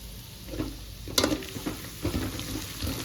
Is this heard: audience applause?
no